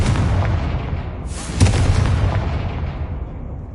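In Hogwarts Legacy, a Confringo fire-blast spell goes off with a loud, booming explosive burst, followed by a second sharp blast and a long rumbling, hissing tail.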